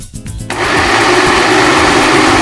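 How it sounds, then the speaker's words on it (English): A blender starts up and roars steadily as it purées whole oranges, skin and pith included, into a smooth paste, loud and close after a brief lower rumble at the start. "Put your oranges, skin, pith and all, into a blender. Now blend."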